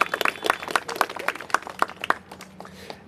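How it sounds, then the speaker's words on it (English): A small crowd claps at an outdoor civic announcement in Sunset Park's Chinatown, with distinct separate claps thinning out toward the end. "Let's give them a big round of applause."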